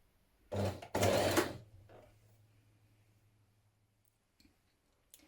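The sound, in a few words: sewing machine stitching dart in bodice lining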